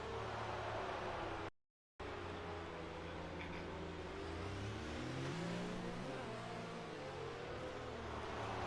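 A racing car engine in an online racing game drones steadily at a faint, even level. Its pitch rises and falls through gear changes, a brief dropout interrupts it near the start, and no talk is heard.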